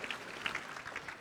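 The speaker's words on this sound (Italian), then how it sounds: "Grazie mille Alberto, un applauso a te e proseguiamo." A short burst of scattered applause for a conference speaker in a hall at a job-day event, faint and distant, with soft irregular claps over a brief moment.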